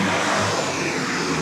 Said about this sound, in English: No, just one loud truck.